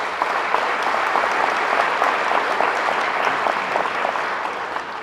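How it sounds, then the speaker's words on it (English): Steady, sustained applause from an audience at a Cedar Fire community meeting, dense clapping of many hands at a fairly close, even level throughout, tapering slightly toward the end. "Give yourselves a hand on that."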